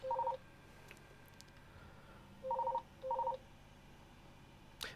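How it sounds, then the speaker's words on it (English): A telephone sounds in a quiet room: three short electronic tone bursts, one at the start and a pair near the middle, each clear and moderately loud against a faint background. "Just wait for that to stop ringing."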